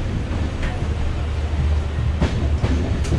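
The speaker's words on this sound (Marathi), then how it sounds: "हे आहे आत्ताची रेल्वे, मोदी काळातली रेल्वे." An Indian passenger train runs on the Pune to Jodhpur route, heard from inside a coach as a steady, close rumble with faint clicks from the rails.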